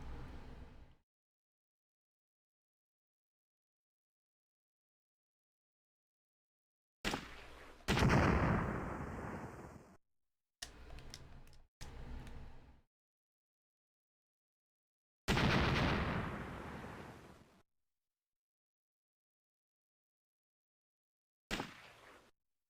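Bursts of gunfire from the Game Boy Advance shooter Ecks vs. Sever arrive in separate loud blasts of harsh noise, each lasting one to two seconds, cut off by stretches of dead silence.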